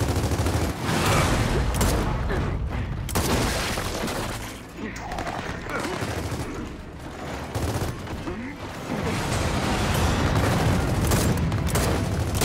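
Pistol gunfire in the video game Gears of War 4, rapid loud bursts of shots mixed with impacts and crashes throughout, with a player talking over the action.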